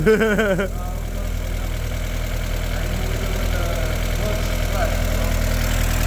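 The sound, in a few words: Golf 2 20VT engine idling after repair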